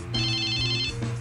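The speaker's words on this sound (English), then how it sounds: "Can you count how many times I let it ring before it goes to voicemail?" A single electronic phone ringtone trills close and clear, a bright warbling tone that plays once for about a second before fading out.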